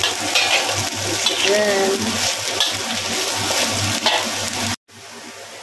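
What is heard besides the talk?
shimeji mushrooms added to a pan and frying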